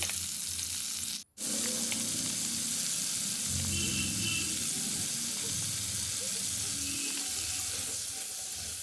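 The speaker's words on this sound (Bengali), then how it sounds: "তেলের মধ্যে আমি পেঁয়াজ লঙ্কা দিয়ে দিচ্ছি" Onion and green chilli sizzling in hot oil in a pan over a clay stove, a steady broad frying hiss that runs close and continuous with one brief dropout near the start.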